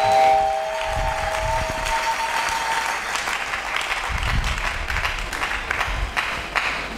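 A church congregation applauds together, a dense steady wash of clapping that swells and carries on for several seconds without voices over it.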